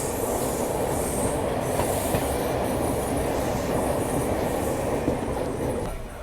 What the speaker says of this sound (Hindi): ये मेरे ख्याल से सिम्हाद्री एक्सप्रेस है।